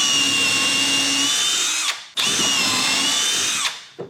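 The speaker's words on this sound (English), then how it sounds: "When we're drilling through wood, we can keep our drill bit set on number 2." A cordless hammer drill bores through wood at a steady high-speed whine for about two seconds, stops briefly, then runs again with another long steady burst before winding down, loud and close.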